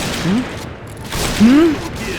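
Sniper rifle shots in the online shooter Point Blank, heard as a few sharp bursts in a short burst of play, with a voice rising over them.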